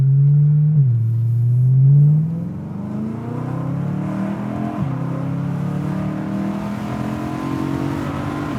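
A car with an aftermarket Ali Baba exhaust revs hard with a deep, throaty exhaust note, the pitch dropping and then climbing steadily as it accelerates, loud and close.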